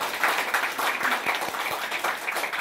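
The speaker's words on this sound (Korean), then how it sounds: "다시 한번 뜨거운 박수 부탁드리겠습니다" Steady applause from an audience, many hands clapping at a moderate distance, with no voices.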